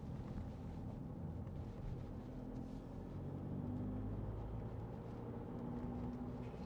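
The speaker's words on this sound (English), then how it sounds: "Love this diesel engine." A 2017 Skoda Yeti 2.0 TDI diesel four-wheel-drive SUV drives along, its engine a steady low drone mixed with road and wind rumble from inside the cabin, continuous and moderately quiet with no talking.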